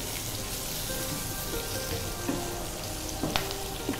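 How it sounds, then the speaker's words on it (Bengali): Fenugreek, garlic, green chillies and dried chillies fry in oil with a dense, even sizzle, with a few light knocks of a utensil stirring the pan toward the end. "কাঁচা লঙ্কা, শুকনো লঙ্কাগুলো ভালো করে একটু আমরা নেড়ে চেড়ে নেব।"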